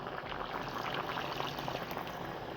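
Mixer-jar rinse water splashes and gurgles steadily into simmering broad bean curry, a continuous liquid pour with bubbling underneath, close and moderately loud.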